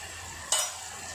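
Vegetables with tomato and potato sizzle faintly while being stirred in a pan, with one short louder scrape or clink partway through over a steady low frying hiss.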